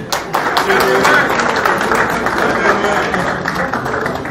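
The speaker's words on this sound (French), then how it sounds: "sous vos applaudissements" Applause from a crowd at a cheque presentation ceremony, dense clapping mixed with voices and cheering, loud and sustained across the moment.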